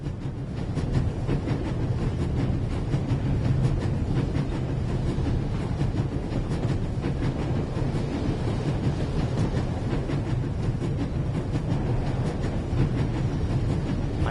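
Train carriage rolling steadily along the tracks in The Raven Remastered, a continuous low rumble with faint rhythmic clicking of wheels over rail joints, sustained and even throughout.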